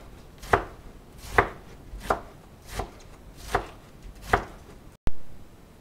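Cabbage being shredded by hand with a knife on a board, six sharp, evenly spaced chops close up, followed by a brief clatter.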